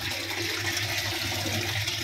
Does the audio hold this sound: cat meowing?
no